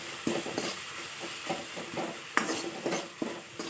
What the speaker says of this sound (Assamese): দি পেলাই ভালদৰে বিলাহীখিনি গলি যোৱালৈকে লৰাই ভাজিম